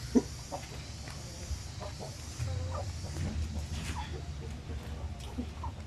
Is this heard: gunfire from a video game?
no